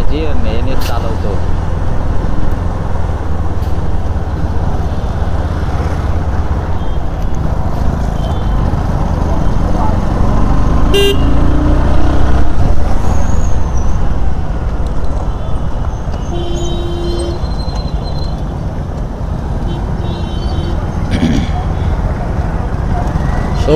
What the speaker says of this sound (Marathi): तो गाइस, यहाँ पे गाड़ियों की बहुत भीड़ रहती है।